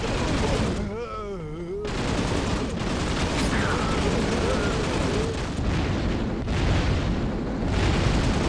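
Bombs exploding in Fur Fighters, a steady barrage of booms and crackling blasts that stays loud throughout, with a voice briefly heard partway through.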